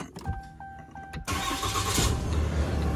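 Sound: Stock 2019 Ram 3500 dually truck engine starting

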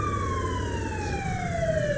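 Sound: police car siren in Roblox video game

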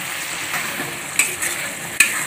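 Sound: spice paste frying and being stirred in pan

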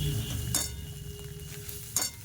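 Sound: stirring and frying masala in a kadai

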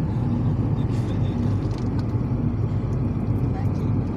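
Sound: Dacia Sandero car driving on road

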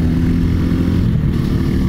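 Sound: Mutt Motorcycles DRK motorcycle engine while riding

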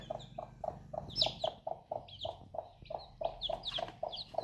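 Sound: hen clucking

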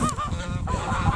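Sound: gander (male goose) honking and attacking

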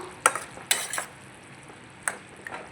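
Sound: stirring curry after adding curry leaves to the pan

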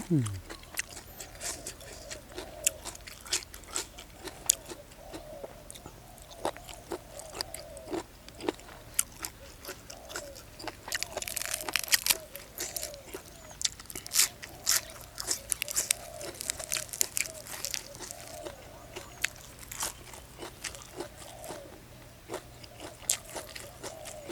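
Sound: chewing crunchy large squid tentacles

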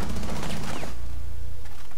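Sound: gunfire from a 50-round magazine in video game Rainbow Six Siege

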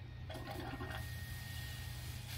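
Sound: water rinsing through RV sewer hose

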